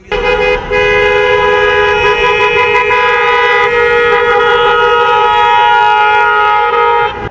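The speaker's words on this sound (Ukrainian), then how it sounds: "під звук клаксонів своїх авт вирушають містом." Loud, sustained car horns blare together almost without pause for several seconds, layered and steady, with a brief dip near the start, as a convoy of cars with flags drives through a city.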